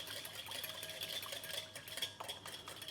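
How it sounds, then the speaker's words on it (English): A whisk beats rocket and olive oil into a dressing, giving quiet, rapid, continuous metallic clinks and scraping against a bowl. "we are simply going to whisk this together with some olive oil"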